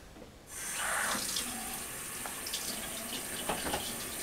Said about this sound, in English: it's a good idea to begin by washing your hands thoroughly.